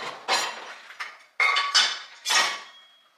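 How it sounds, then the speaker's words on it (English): Dishes, cutlery and glassware clinking and clattering as they are loaded into a dishwasher during a quick home reset, four separate bursts of close, fairly loud clatter with short pauses between. "Let's load these dishes and get out of here."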